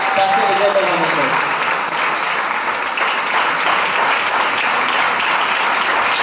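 A church congregation claps loudly and continuously at a Friday service, a dense, sustained wash of applause with a brief voice at the start.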